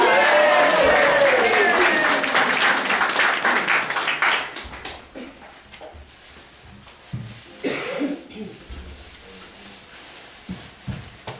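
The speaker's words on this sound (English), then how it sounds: "Would you give her a big round of applause?" Concert audience applauds a singer, dense clapping loud and sustained for about four seconds, then fading into scattered claps, murmurs and a cough with brief voices.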